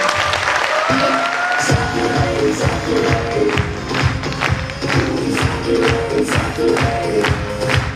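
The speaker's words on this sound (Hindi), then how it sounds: "तो एक बार डॉक्टर साहब के लिए जोरदार तालियां हो सकती है।" Loud, sustained applause from a large crowd at a training session, dense clapping throughout with a brief swell at the start.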